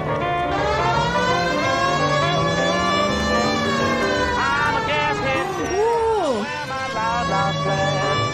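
A police car siren in the video game LA Noire wails continuously and loudly, its rising and falling tone running throughout over engine noise, with a brief voice or two mixed in.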